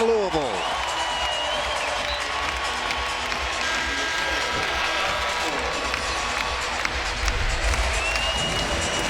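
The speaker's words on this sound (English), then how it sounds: "Listen to this crowd in Louisville" A basketball arena crowd in Louisville roars through a timeout in an ACC game, with loud sustained cheering, shouting and clapping throughout.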